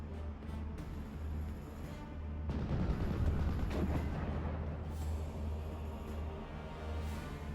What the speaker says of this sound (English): We got some more and more bomb runs coming on